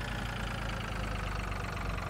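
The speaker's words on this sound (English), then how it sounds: "Oh, look at that little tractor." A small tractor idling in Farming Simulator 2013, a steady low diesel chug with a faint knocking pulse, even and unbroken, moderately quiet, with no speech.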